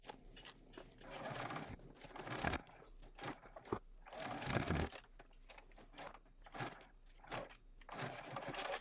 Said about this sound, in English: Now I'm going to head to my sewing machine, and I'm going to stitch about 1/8 of an inch from that folded edge.